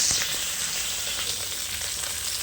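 Okra seasoned with salt and turmeric sizzles steadily in hot oil, a dense, even frying hiss that continues throughout without pause.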